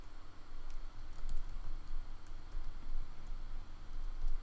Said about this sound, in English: We're going to come down here and type default.